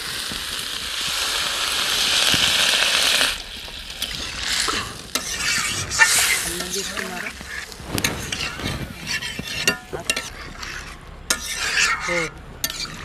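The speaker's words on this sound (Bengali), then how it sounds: "এবার আমি ঝোল দিয়ে দিচ্ছি" Liquid goes into a pan of spiced cauliflower and potato curry with a loud hissing sizzle for about three seconds, followed by stirring, clinks of a utensil against the pan and scattered speech.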